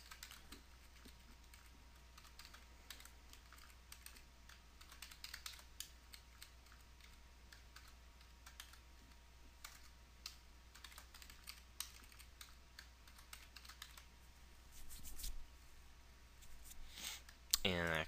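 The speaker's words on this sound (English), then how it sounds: "I'm going to go ahead and type P in the P tag" A computer keyboard is typed on in faint, quick, irregular bursts of key clicks while writing HTML and CSS code, sounding soft and close.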